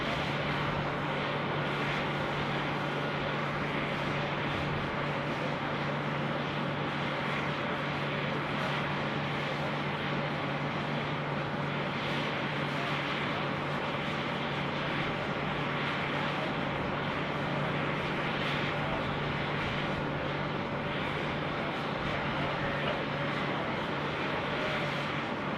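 At Sydney Airport, the Qantas 1 airliner moves with a steady, moderately loud engine drone and a faint tonal hum, unbroken and without talk.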